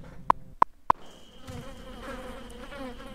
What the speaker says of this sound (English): Bees? Oh my god!